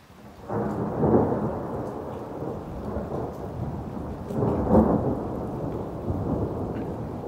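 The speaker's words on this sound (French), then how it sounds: "on a un gros orage aujourd'hui encore" A strong August thunderstorm over Clermont-Ferrand in Auvergne brings two long rolling peals of close thunder over a constant roar of heavy rain, with no voices.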